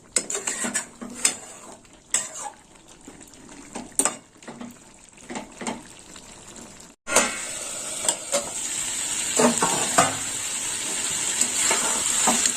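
Vegetable curry of potato, carrot, beans, eggplant and tomato cooking in a pan, with repeated sharp scrapes and knocks of a spoon against the pot over a soft bubbling, which grows louder and steadier partway through.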